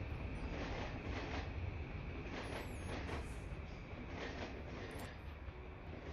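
A train running in the rail simulation game Nimby Rails, a continuous loud rumble of cars rolling along the track with faint rhythmic clatter and high squeals, and no talking.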